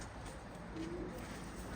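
Crested Hungarian pigeons give a faint, brief coo near the middle, a single low rolling call over a quiet, steady background hiss.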